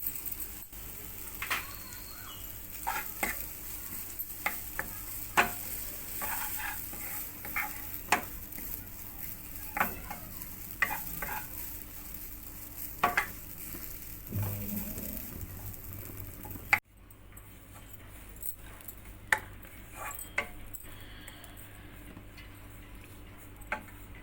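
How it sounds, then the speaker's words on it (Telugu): Shredded coconut frying in a pan for rava laddu, with scraping stir strokes and soft sizzling in a steady background hiss, the clicks of the spoon repeating irregularly throughout. "ఇందులో కోకోనట్ ఫ్రై చేసుకోవాలి"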